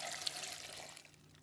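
Water poured from a jug into a pot of Japanese knotweed stems, a short, soft splashing pour that tapers off after about a second.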